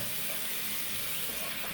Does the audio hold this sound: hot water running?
yes